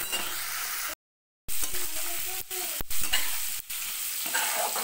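Prawns fry in a hot pan with a steady close sizzle and scraping stir strokes, interrupted by a short silent gap before the crackle resumes.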